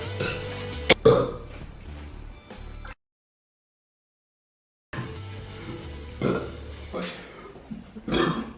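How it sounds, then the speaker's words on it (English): Several loud, drawn-out chili burps from men, rough and guttural, come in two bursts separated by a few seconds of silence, with brief voices and laughter around them. "Chili burps."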